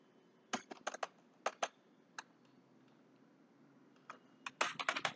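Keys clatter on a computer keyboard in two quick bursts separated by a short pause, close and crisp in an otherwise quiet room.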